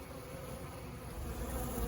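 Honey bees drone inside a plastic shipping box about the size of a shoebox, a faint, continuous low buzz with no voices.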